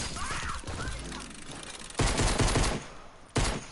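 Gunfire in an online shooter game comes as rapid bursts: a loud volley early, then two sharp, dense salvos later in the clip, with a short quieter stretch between them.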